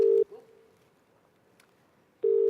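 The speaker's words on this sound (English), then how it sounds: "Oh, is that an actual call?" A telephone tone sounds in two steady beeps at the start and end, separated by about two seconds of near silence, like a ringback or call signal coming through a phone line.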